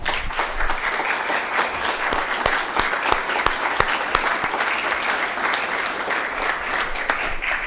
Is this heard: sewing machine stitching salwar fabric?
no